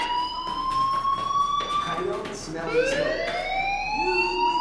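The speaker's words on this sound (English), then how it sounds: "Hey, do you hear that fire alarm?" Electronic fire alarm blaring inside a school in the video game Life Is Strange, a steady rising and falling siren tone heard continuously, with a voice speaking over it.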